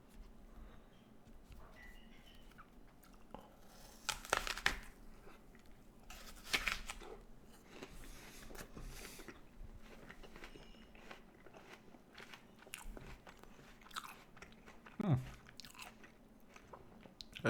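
Someone bites into an organic Gala apple with a few sharp, close crunches, followed by soft, quiet chewing and crackling in between, with no talk.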